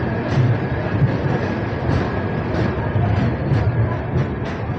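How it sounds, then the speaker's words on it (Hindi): The Ranthambore Superfast Express pulls out of Sawai Madhopur Junction, a continuous close rumble of rolling rail cars with regular clicking wheel beats over the joints. "अपनी Ranthambore superfast express Sawai Madhopur junction से रवाना हो गई है"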